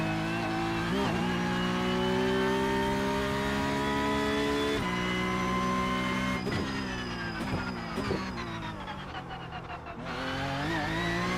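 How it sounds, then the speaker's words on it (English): Porsche Cup 992.2 race car in iRacing, engine droning loud and steady with rising and falling pitch, then sharp rattling crackles and chatter as the rear end locks up and breaks loose, up close. "listening to that rear end locking up and shattering is exactly what the car does in real life"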